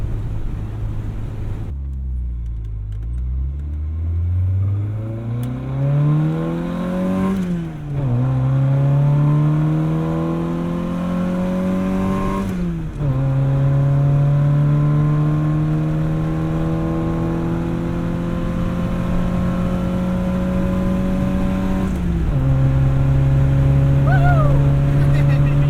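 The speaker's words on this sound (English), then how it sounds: "You hear a lot of the operation of the car in here." A 1977 MG Midget engine drones loudly from inside the cabin, revving up through rising pitch sweeps and gear changes before settling into a steady cruise.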